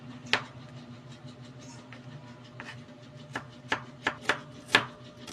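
A knife slices garlic, onion and chili on a cutting board, with irregular crisp taps close by, some sharper than others, over a faint steady hum.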